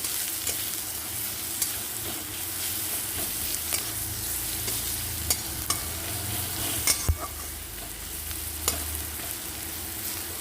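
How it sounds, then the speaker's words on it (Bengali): Tomatoes with turmeric and salt fry in oil in a pan, a steady close sizzle broken by regular spoon scrapes and taps against the pan. "এবার এটাকে সুন্দর করে আমি একটু ভেজে নেব"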